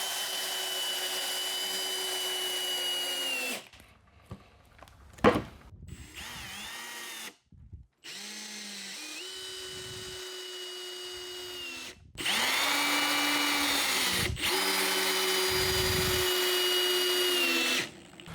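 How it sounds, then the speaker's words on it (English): A power drill with a T25 bit and extender whines in several bursts, driving screws with steady high-pitched motor runs separated by short pauses and clunks. "we're just gonna run a few screws through"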